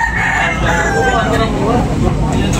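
A rooster crows amid a busy, noisy crowd at a chicken market in Tabunok, Talisay, its call rising and falling over steady background chatter and bustle.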